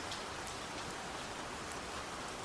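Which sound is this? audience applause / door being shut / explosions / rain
rain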